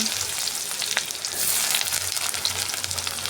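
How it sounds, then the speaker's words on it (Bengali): Black cumin seeds and chopped onion fry in hot oil with a dense, continuous crackling sizzle and a few sharper pops, close and fairly loud, with no talking. "এখন দিয়ে দিব তেলের মধ্যে কালো জিরে তারপরে দিয়ে দিব পেঁয়াজ কুচি"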